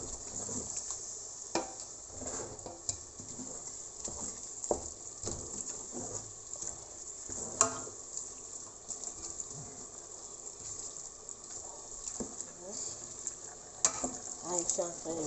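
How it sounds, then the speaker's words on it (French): Meat is stirred in a simmering pot of Eru, giving a steady close sizzling hiss broken by irregular scraping and clacking strokes throughout. "Ah, je suis en train de mélanger."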